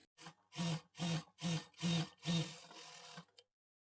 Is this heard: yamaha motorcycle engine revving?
no